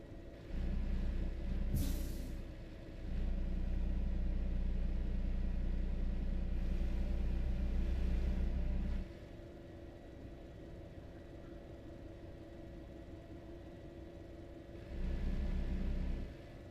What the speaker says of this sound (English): some engine sounds that you get from mods are probably just straight up fictional too